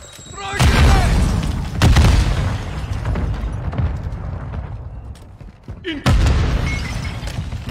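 Loud Call of Duty Modern Warfare II combat with grenade explosions: several heavy booms, one near the start, another around two seconds and a third near six, each with rumbling decay under continuous battle noise.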